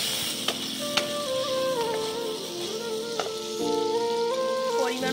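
Masala with mustard-cumin paste, turmeric, chilli and water is sautéed for rohu fish curry with drumsticks, a moderate sizzle with occasional spoon taps over a steady tonal background hum.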